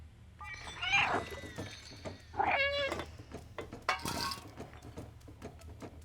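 A cat in the video game Stray meows several times over a low, steady background drone, the calls close and clear and spaced across the clip.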